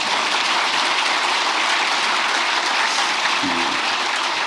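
An audience at a workshop for senior public officials claps in steady, sustained applause, with a brief low tone near the end.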